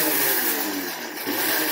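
A Vitamix blender whirs loud and steady as it blends an adrenal tonic. The motor roars close up with a brief dip near the middle, with no talking.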